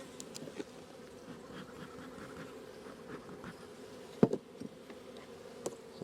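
Honeybees drone around an opened hive while frames of brood are checked in February, a steady soft hum broken by a few sharp knocks and clicks of hive handling.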